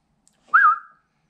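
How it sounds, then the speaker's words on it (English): A pet bird gives one short, clear whistle that slides downward, close and fairly loud, against near silence; no bell is distinct. "So if you heard a little whistle and bell going down, that was her."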